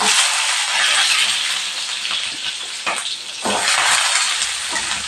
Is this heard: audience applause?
no